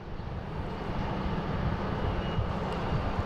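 SAS Airbus A330-300 bound for Copenhagen taking off at Boston Logan, a loud, steady jet engine roar with heavy low-end rumble that builds slightly and holds throughout, with no voices.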